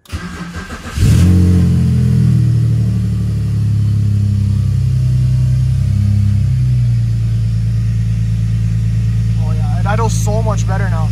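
A BMW E46 car engine, after a fuel injector cleaning for a lean code, cranks and catches with a sharp burst, then settles into a loud, steady idle that rises and falls with revs.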